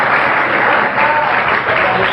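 Loud crowd applause at an Islamic religious lecture led by a habib, a thick, continuous rush of many clapping hands that swells slightly midway and carries on without speech.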